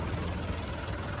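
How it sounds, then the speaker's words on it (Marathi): A tractor engine runs at a low, steady idle nearby on a Jaipur street, a faint continuous rumble lasting about a second with no speech. "अरे ट्रॅक्टर"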